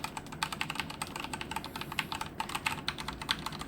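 Typing on a Sharkoon Skiller SGK3 mechanical keyboard with Cherry Red switches produces a quick, steady run of close, soft clacking keystrokes with no talk.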